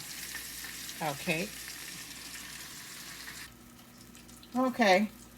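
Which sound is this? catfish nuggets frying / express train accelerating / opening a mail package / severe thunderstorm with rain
catfish nuggets frying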